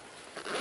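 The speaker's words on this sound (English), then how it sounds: "You have a really nice zipper pull" A zipper on the lid of a Helikon-Tex Matilda backpack is pulled in one short, close rasping stroke that grows louder as it runs.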